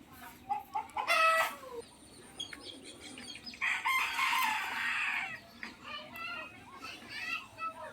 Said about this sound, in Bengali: হাঁস মুরগি কিচির মিচির করে ডাক দিচ্ছে